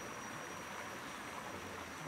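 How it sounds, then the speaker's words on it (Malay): A small river stream flows deep in a jungle forest, a steady, even rush of water noise that holds at a constant level, close by and with no voices over it. "Ni sungai dia."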